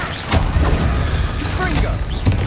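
Confringo blasting spell in Hogwarts Legacy goes off in quick fiery bursts, several sharp cracking impacts over a rumbling low end, close and loud.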